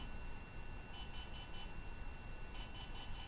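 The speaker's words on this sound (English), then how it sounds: "this is what it sounds like while it is performing the firmware upgrade." A DJI Phantom 3 Professional drone beeps quietly during a firmware update, with two bursts of four quick, evenly spaced high beeps over a steady background hum.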